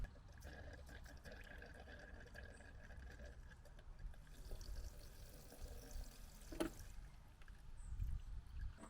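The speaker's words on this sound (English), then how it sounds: "Just gonna pour a little bit into the cup just to make sure it's coming out alright." Old fuel from an abandoned Porsche 924 trickles faintly into a cup, a soft steady pour over background hum, with one sharp clink partway through.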